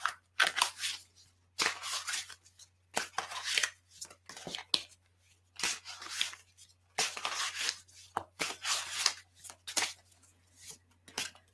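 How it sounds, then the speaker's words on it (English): Tarot cards riffled and shuffled up close in repeated bursts, each quick flurry separated by short pauses, over a faint low hum. "I'm going to shuffle my cards here."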